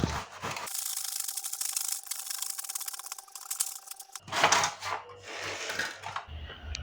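A manual cutting tool saws through wood while a 3D wooden frame is cut by hand, giving a steady rasping, rubbing stroke in close bursts with a brief pause between passes.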